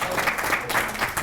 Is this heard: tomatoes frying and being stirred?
no